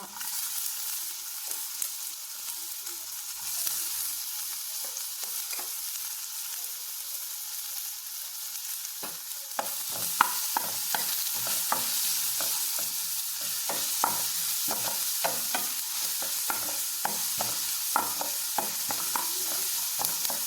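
Green chilli and onion stir-frying in hot oil in a pan, a soft steady sizzle that grows busier midway, with frequent small scraping and clicking stirs from a utensil.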